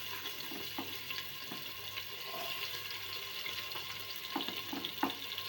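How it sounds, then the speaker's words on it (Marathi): Chopped onion frying in a pan for spiced masale bhat rice, a soft steady sizzle with occasional light stirring taps, fairly quiet and close, no talking. "कांदा सुद्धा आपण आता छानपैकी भाजून घेऊयात लाल होईपर्यंत."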